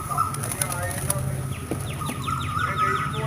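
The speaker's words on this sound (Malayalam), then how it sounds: "ആയിരക്കണക്കിന് പ്രാവുകളാണ് ഇവിടെ തീറ്റ തേടി വരുന്നത്." Pigeons flocking where tourists feed them beside Fort Kochi beach: repeated flapping wingbeats in bursts, mixed with scattered bird calls over a busy outdoor background.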